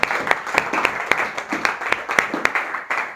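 A church congregation clapping together in a steady, rhythmic beat during a thanksgiving worship service, with sharp regular claps repeating about three times per second over a low background of voices.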